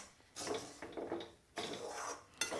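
A spoon scrapes and stirs through a rava modak mixture with saffron-soaked milk in a pan, giving soft repeated rasping strokes in uneven bursts, close and fairly quiet.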